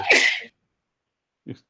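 A single sharp sneeze bursts out at the start, followed by silence and then a brief low murmur of a voice near the end, recorded during a tabletop role-playing game session.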